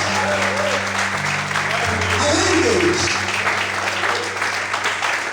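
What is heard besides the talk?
church congregation applauding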